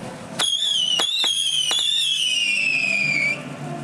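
A B-50 missile firework shrieks with a loud rising-then-falling whistle lasting about three seconds, punctuated by several sharp crackling bursts at the start, close and outdoors at a holiday display.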